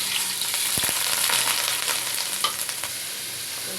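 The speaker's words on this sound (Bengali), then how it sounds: "এখানে দিছি তেল আর পেঁয়াজ তেলটা আর পেঁয়াজটা ভাজা হইতে হইতে" Onions fry in oil in a pan, a loud constant sizzling hiss with a few crackles and a brief stir partway through.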